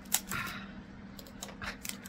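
Scissors handled on a table, a sharp metallic snip near the start followed by a few faint clicks and rustles, close by with no talking.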